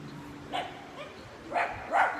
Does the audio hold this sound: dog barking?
yes